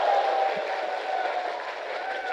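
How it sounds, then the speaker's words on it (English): At a men's 10-ball world championship pool match, a distant crowd roars and cheers in a sustained, even wash of noise. "We did hear a big crowd erupting in the background"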